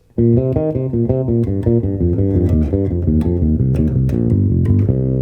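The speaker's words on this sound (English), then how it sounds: "for the next line, we have a long descending pentatonic run in triplets that sounds like this" A song's line on bass guitar: a long descending pentatonic run in triplets, played as dense, continuous notes that step steadily downward, loud and close, with no talking.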